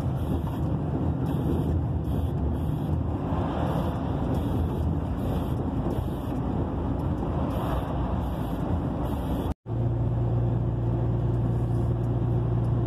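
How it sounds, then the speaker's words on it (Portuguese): Heavy trucks rumble past on a busy road in Cuiabá, a continuous loud low roar of engines and tire noise with wind buffeting, briefly cut off then resuming with a steady engine drone. "Hoje tem caminhão com força aqui."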